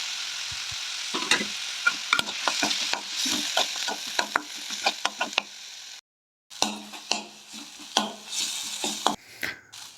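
Tomatoes and green chillies sizzle in a hot pan while a utensil stirs and scrapes in irregular bursts, close by, with a short silent gap midway.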